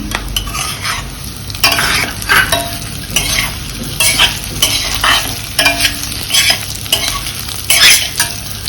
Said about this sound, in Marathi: दोन मिनिटं याला परतवून घ्यायचे.